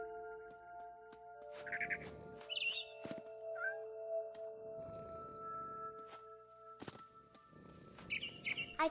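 A cat meows repeatedly in the video game What Remains of Edith Finch, with several separate mid-distance calls and soft bird chirps between them over a steady musical hum.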